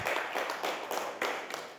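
Hands clap at a first meeting of the Cameroon community in Cyprus. Several people clap in a steady, rhythmic pattern that sounds close and fills the room.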